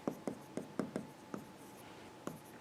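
Pen writing on a sheet of paper, quiet close strokes making a series of short scratchy taps in an uneven rhythm, with no talking.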